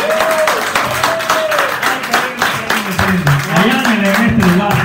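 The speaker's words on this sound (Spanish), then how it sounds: "Denle un aplauso" Audience applause at a church healing service, a steady wash of clapping throughout while a voice speaks and calls out loudly over it.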